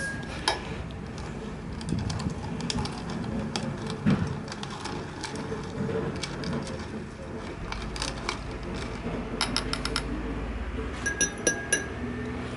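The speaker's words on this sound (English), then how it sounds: "And I'll just give it a quick stir." Glassware clinks as gold plated pins are stirred in nitric acid, small scattered taps and rattles in bursts near the end, faint against a steady background hiss.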